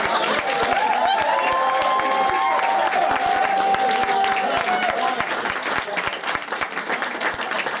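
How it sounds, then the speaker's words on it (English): A wedding reception crowd breaks into loud, sustained applause during the speeches, with scattered cheers and whistles, clapping dense and continuous before thinning slightly toward the end. "give you a round of applause to David the groom"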